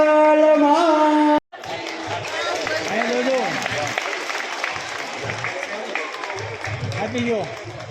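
An audience bursts into sustained applause after a brief musical tone cuts off, with a dense field of clapping and crowd noise continuing for several seconds, voices mixed through it.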